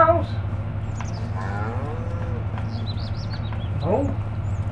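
Cows in Farming Simulator 25's Oak Bridge Hills map give a couple of short, rising moos over a constant low drone, with faint bird chirps scattered high above and a brief voice-like sound near the start.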